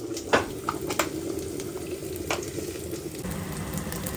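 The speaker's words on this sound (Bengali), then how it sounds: "রসুন ফোড়ন দিয়ে দিলাম" Garlic hits hot oil as a tempering step for a Poush Parbon dish, making a steady, close sizzle with a few sharp crackles and pops scattered through it.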